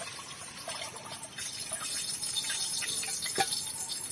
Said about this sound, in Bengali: এবার আমরা জল দিয়ে দিচ্ছি হাঁড়িতে।